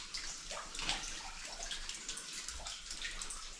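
Water drips and trickles from behind ore chutes in an old underground mine, a faint wet patter with small splashes set against a steady hollow background wash.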